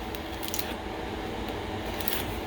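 Knife or shears snip through collard green stems during prep, producing a few faint, crisp cutting clicks over quiet room tone.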